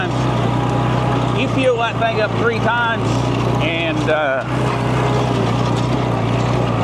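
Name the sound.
farm tractor engine running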